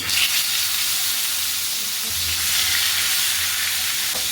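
Pangas fish pieces frying in hot oil in a pan, a loud, steady sizzle and hiss with fine crackling that continues throughout, with no voices.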